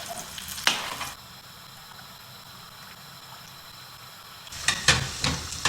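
Food cooks gently in a pan with a soft, continuous sizzle, bracketed by a few clattering knocks and scrapes of utensils against the pan near the start and end.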